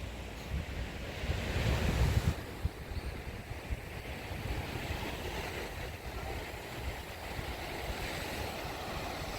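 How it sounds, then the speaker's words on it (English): Waves wash onto a beach on an overcast day, a steady broad roar with gusts of wind buffeting the microphone, continuous and unbroken with nobody talking. "And today we're on the beach."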